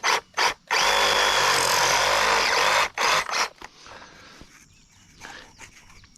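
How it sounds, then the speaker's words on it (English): A metal well point pipe has its bottom point cut off by a power tool, giving a loud sustained burst of about two seconds after two short starts, then one more brief cut before quieter handling noise. "So let's just cut the bottom off."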